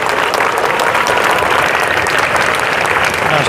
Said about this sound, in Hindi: भाई सभी बच्चे ताली बजाएंगे।